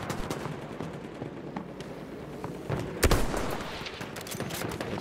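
Gunfire in the World War I shooter Battlefield 1, scattered battlefield shots with one sharp, louder blast midway amid constant background noise and distant pops.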